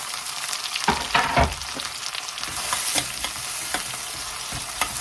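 Ginger, garlic and tomato fry in a pan with a continuous close sizzle, broken by several louder scraping and clattering stirs of a spoon against the pan.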